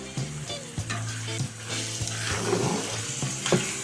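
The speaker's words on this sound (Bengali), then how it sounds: "তেল গরম হলে পরিমাণ মতো লবণ দিয়ে কাঁচামরিচ, পেঁয়াজ, চিনি ভেজে নিব" Green chilies, onion, sugar and salt frying in hot oil in a wok for a Bengali dish, with a steady close sizzle broken by repeated stirring scrapes and clinks.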